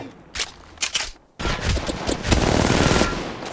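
Gunfire in the mobile battle royale game Apex Legends Mobile: a few separate shots, then a dense, sustained burst of automatic fire that is loud and continuous.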